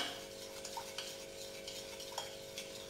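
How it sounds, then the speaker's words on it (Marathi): A spoon stirs milk into eggless zebra cake batter, soft repeated scraping and light clinks close by, quiet and steady with no talking. "आता दूध पुन्हा व्यवस्थित ह्याच्यात मिक्स करून घेऊया।"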